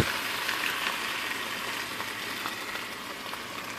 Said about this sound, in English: I'm just going to slowly pour the cream of mushroom soup